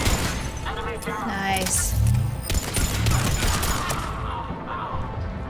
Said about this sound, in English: Holy shit, that's a turret.